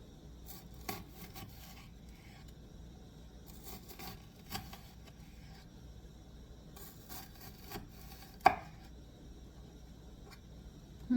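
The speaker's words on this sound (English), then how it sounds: "It'll stabilize your onion while you cut it." A knife cutting an onion on a board while making potato salad: soft, repeated scraping and chopping strokes at close range, with one sharper knock near the end over a faint background hum.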